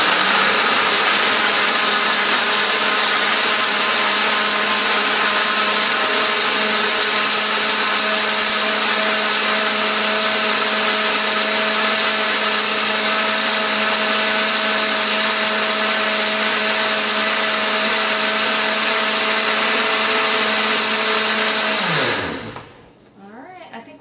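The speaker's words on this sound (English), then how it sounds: "we're going to blend it until all the almonds are ground up as finely as possible" A countertop blender grinds almonds for almond milk in a loud, steady roar that runs unbroken for about twenty seconds, then spins down and cuts out near the end.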